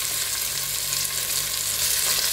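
Onions sizzle steadily in a pan for a chicken and potato curry, a continuous close frying hiss with faint stirring scrapes and no talk.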